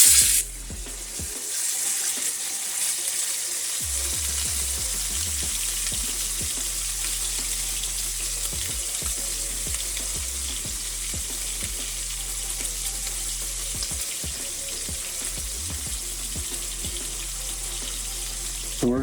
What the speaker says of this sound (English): So we're going to be searing this for about 1 minute per side.